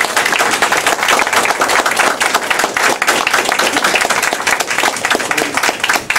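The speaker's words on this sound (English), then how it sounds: "Let's give all of them a round of applause." A crowd at a church service claps steadily and loudly for a brief stretch, a dense unbroken wash of hands from start to finish.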